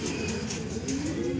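Racing pigeons back at their loft after a derby lap in Gumaca, Quezon give low, throaty coos in a short continuous murmur close by, with no talk.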